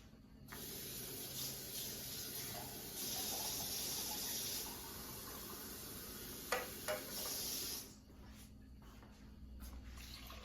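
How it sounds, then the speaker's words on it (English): Water runs from a tap into tomato juice cans to rinse them, producing a steady hissing spray that swells and eases over several seconds before stopping, with a few small clinks near the end. "I'm going to take some water from the 2 cans so I get all the juice out of them"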